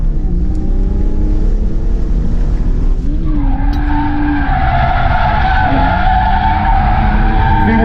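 A Lexus IS300 driven flat out on a race track roars loudly at high revs, with tires squealing and skidding as the engine pitch climbs and drops through the corners.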